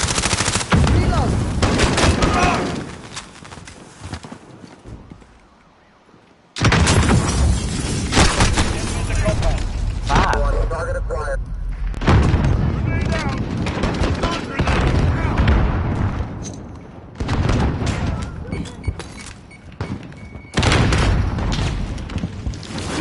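Dense bursts of automatic gunfire and booms from the Call of Duty: Modern Warfare video game fill the clip, loud and nearly continuous, broken by a short lull.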